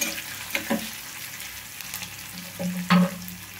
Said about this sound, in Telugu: తాలింపు బాగా వేగాలి.